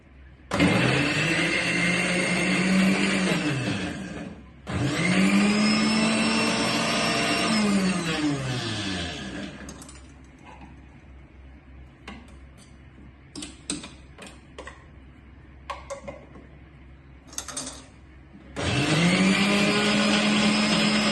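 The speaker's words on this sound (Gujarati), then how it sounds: "અંદર પનીર છે એના માટે 1 ચમચી નાખીને એને ગ્રાઇન્ડ કરી લઈશું" A mixer grinder whirs loudly in two long bursts grinding paneer and mint, then the jar clicks and rattles as it is shaken before a final grinding burst.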